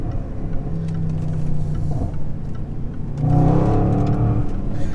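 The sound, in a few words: Range Rover SVR engine revving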